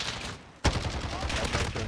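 Burst of rapid automatic rifle fire in Call of Duty: Modern Warfare, a sharp near shot starting a quick run of gunfire in a multiplayer match, with game ambience before it.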